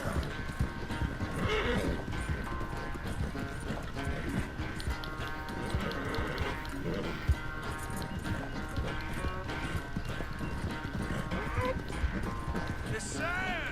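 Hooves pound in a fast, steady gallop with a horse whinnying now and then in Red Dead Redemption 2, while people talk over the busy, loud scene.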